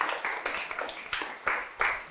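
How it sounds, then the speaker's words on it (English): A classroom of students clapping for a classmate in a short burst of roughly six sharp, fairly close group claps, with no talk over it. "Please clap for Ovaisan again."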